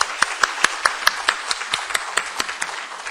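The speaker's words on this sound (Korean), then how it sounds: "우리 박수로 환영해 드립시다" Sparse applause from a church congregation welcoming newly registered members during a Korean worship service, with about a dozen separate, distinct hand claps at an even pace, moderately close and with no talking.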